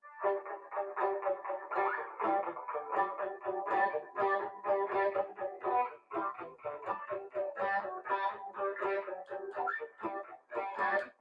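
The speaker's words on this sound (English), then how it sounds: "It's going to have distortion, overdrive on it." Tight, chugging palm-muted electric guitar chords with heavy overdrive, played in quick choppy bursts throughout, loud and close.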